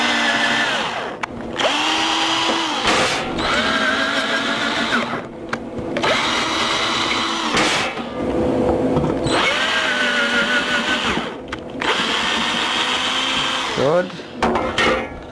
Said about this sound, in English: So you just have to go over them with a tap, set the torque so it doesn't break the tap if something bad happens.